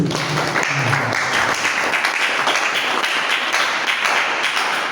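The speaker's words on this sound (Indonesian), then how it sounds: "Boleh tepuk tangan terlebih dahulu." Audience members at a literary discussion event applaud as a lecturer, writer and former journalist is introduced, a continuous patter of many hands clapping close by and fairly loud, briefly thickening near the start.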